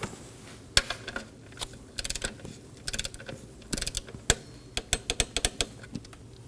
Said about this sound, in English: torque this down to 62 inch-pounds